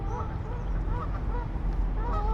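Canada geese honk repeatedly nearby at a mere, a steady chorus of overlapping calls over outdoor background noise.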